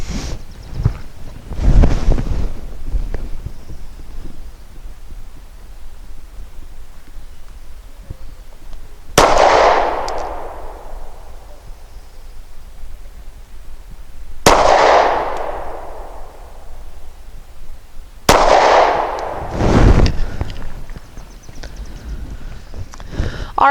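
Three sharp pistol shots from a compact custom Glock 43 firing Blazer 115-grain aluminum-case ammunition, each a loud crack with a ringing decay, spaced several seconds apart outdoors amid wind noise.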